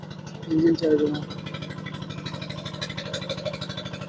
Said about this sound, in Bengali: এটা হচ্ছে আপনার ট্রলার নৌকা